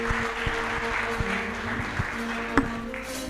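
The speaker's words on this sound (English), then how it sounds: "A round of applause for Janette." An audience at an awards ceremony for the Ladha za Africa competition claps steadily for Janette in a long, even round of applause, with a few sharper claps standing out.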